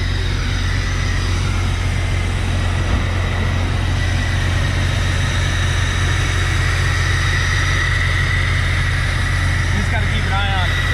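A Jeep Wrangler with the 4.0L engine idles steadily, a constant low rumble with a strong, even hum. It is loud and close, and no one speaks over it.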